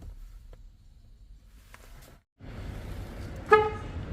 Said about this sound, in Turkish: Kitlemede kornamız ve açmada da kornamız